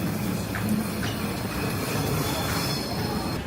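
A train at Zug station rumbles steadily with wheels squealing and clattering over the rails, a continuous close wash of rail noise with no talking.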